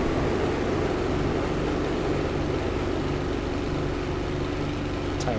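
A Spitfire Mk IV tail-dragger from FlyingIrons in a flight simulator. Its propeller engine gives a steady, dense drone with a low rhythmic throb as the throttle is eased up for takeoff, continuous and close throughout.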